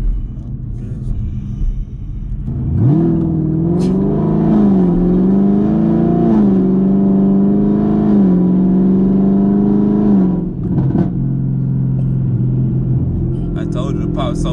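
A 600hp 2021 Camaro SS revs hard close up, its deep exhaust rising and holding in a loud drawn-out roar before dropping off, followed by a lower idle and a few crackling pops, with people talking over it.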